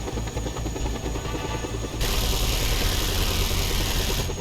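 A helicopter in a video game drones with a steady rotor and engine hum, joined partway through by a loud hissing wash that holds to the end.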